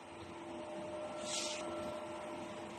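A DTF printer hums steadily up close with a constant mechanical drone and tonal whine, and a brief hiss midway through.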